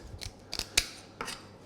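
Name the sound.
scissors cutting the tail fin off a salmon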